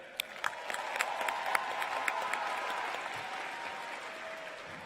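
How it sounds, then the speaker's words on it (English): Applause and cheering from a large crowd at a university commencement ceremony in an indoor arena, a steady wash of clapping with scattered whoops, heard from a distance and moderately faint. "Let us cheer."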